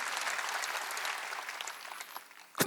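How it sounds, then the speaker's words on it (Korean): A congregation claps during a Wednesday church service. The applause is loud and steady from many hands, ends with a few louder claps, and has no talking over it. "박수야 이게야"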